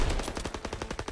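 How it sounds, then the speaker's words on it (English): Machine gun fire in a Call of Duty WWII battle, a rapid, evenly spaced burst of roughly a dozen sharp shots rattling close by at moderate loudness. "MGs, open fire."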